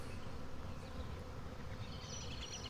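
A dense, steady buzz of a honey bee swarm close by, a continuous droning hum with no pauses and no voices.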